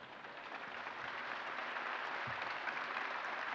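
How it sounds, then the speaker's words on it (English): A crowd at the "That Others May Live" exhibit opening ceremony gives a steady round of applause for rescue participants, sustained, dense clapping filling the room evenly from start to finish. "Ladies and gentlemen, thank you for this round of applause for these brave individuals"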